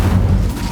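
An Incendio fire spell is cast in Hogwarts Legacy, a single loud, low whooshing burst that swells and fades within a second.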